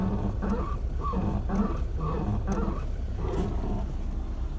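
A VAZ 2110 clutch pedal squeaking with the engine running, a series of short, rhythmic, whiny squeaks repeating over a constant low engine rumble.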